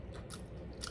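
Filipino street-food fish balls in spicy sweet sauce are bitten and chewed close to the microphone, giving a couple of quick, faint crunchy bites over a soft, steady background.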